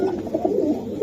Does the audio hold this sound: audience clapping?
no